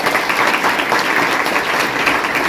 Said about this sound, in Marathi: पुरो एकदा आमच्या अशोक भोगरता जोरदार टाळ्या वाजवा.